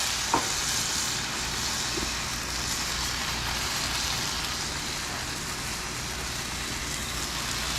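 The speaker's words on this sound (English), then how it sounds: "Hear that sizzle. That's what we're looking for." Continuous sizzling of steaks searing on a hot grill, a steady crackling hiss close by with a faint tap near the start.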